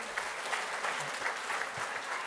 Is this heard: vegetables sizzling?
no